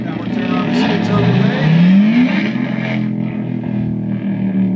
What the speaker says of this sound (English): Listen to that thing, just self-oscillating. And I'm just playing with the pitch.